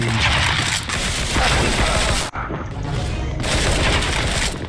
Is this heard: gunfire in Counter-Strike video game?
yes